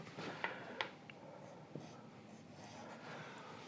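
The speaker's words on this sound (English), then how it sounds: "I think I can write below." Writing on a board during a lecture, faint scratchy strokes and a few light taps over a quiet room hiss, close but soft.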